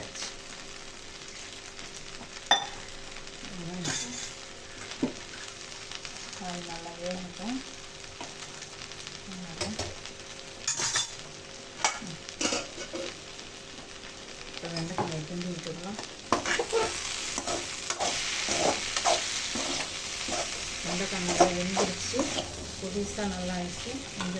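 Okra (vendakkai) cooking in a pan: irregular scraping stir strokes rise over a soft, continuous sizzle, with brief voice sounds now and then in the background.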